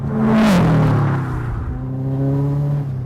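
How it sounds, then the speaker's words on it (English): A tuned, track-prepared Subaru Impreza STi with a 2.5-liter turbo engine revs loudly up close, its engine note rising and settling, with a short breathy hiss of the turbo blow-off valve early on. "it's got a nice blow-off noise"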